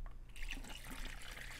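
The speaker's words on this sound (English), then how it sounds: "Okay, now we want to pour." Film developing chemical poured during home processing of color film in a black-and-white developer, a steady close liquid trickle and splash running throughout.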